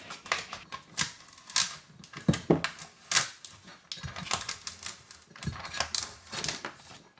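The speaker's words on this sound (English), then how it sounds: "grab that seam and we're gonna peel off our transfer tape" Transfer tape being peeled off a vinyl-wrapped glass can, a series of close crackling, sticky rips in short bursts with brief pauses between them.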